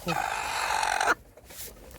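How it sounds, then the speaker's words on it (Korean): A mother hen gives a drawn-out, tonal clucking call lasting about a second, close and clear, followed by quieter rustling and a faint voice. "여기가 엄마 닭"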